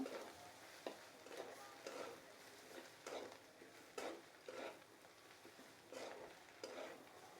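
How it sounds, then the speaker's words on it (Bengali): Koi fish frying with egg and onion in a pan, a soft continuous sizzle broken by repeated rhythmic scraping strokes of a stirring spatula, fairly quiet and close. "কইটাকে দিয়ে এটাকে কিছুক্ষণ ভেজে নেব।"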